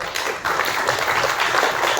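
An audience clapping in a hall, a dense, continuous burst of many hands applauding together, fairly loud and close, with no voices over it.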